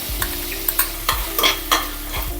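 Almonds and cashews fry in ghee over a low flame, a light sizzle broken by several sharp clinks and scrapes of a spoon stirring in the pan.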